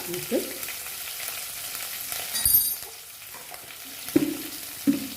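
Ginger garlic paste sizzles in a hot pan, a steady bright frying hiss with occasional louder stirring scrapes and clanks, no voices.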